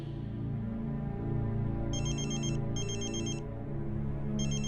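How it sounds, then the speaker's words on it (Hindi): A phone ringtone chimes in short repeating bursts over a sustained musical drone. "12 बजे अंतरा के फोन पर रुद्र का कॉल आया।"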